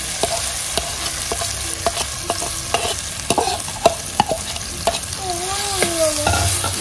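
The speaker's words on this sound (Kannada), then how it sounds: "ಈ ಮಸಾಲವನ್ನು ಕೂಡ ಇದರಲ್ಲಿ ಹಾಕಿ ಸ್ವಲ್ಪ ನಾನು ಬಿಸಿ ಮಾಡ್ತೇನೆ." Masala being stirred in hot ghee in a pan for a pathrode recipe: a soft continuous sizzle broken by frequent scraping and clinking strokes of the spoon against the pan, close and clear.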